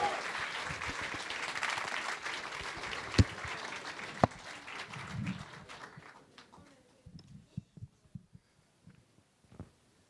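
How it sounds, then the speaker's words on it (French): An audience at a school slam poetry show applauds, dense clapping for several seconds that thins out into scattered individual claps and fades toward quiet. "On l'applaudit, on l'encourage."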